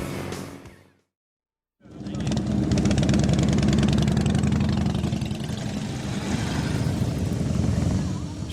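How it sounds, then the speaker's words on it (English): Scooter engines idling and rumbling as riders arrive at a chili cookoff rally in Central Florida, a brief drop to silence then a loud, steady mechanical drone with people talking underneath. "Scooters were now coming in at a steady flow."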